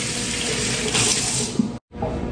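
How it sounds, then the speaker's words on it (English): Hands are washed under a running kitchen tap: a steady, close rush of water splashes without a break, briefly cut to silence near the end before the flow resumes. "let me wash my hands real quick."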